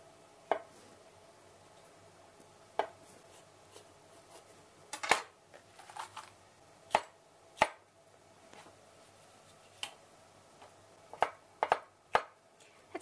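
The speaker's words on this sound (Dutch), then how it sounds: "Dan ga ik bamboe ook in plakjes snijden." A knife slicing cooked bamboo shoots into thin pieces on a cutting board, heard as sharp, sparse chopping taps spaced irregularly, close and fairly quiet, with no talk.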